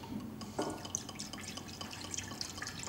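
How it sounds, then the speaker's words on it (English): Tokaj wine trickles and drips into a pot nearby, a faint liquid pour with small splashes and glassy drips scattered over a few seconds, and no voices. "pours some Tokaj wine into the pot and adds 2 spoonfuls of honey"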